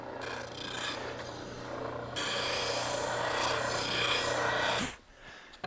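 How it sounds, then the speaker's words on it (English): A drum sander shaves down a wooden handle with a steady, close rasping hiss that grows louder midway, then drops off abruptly near the end. "I have to use the the drum sander, just enough to shave it down until it fits"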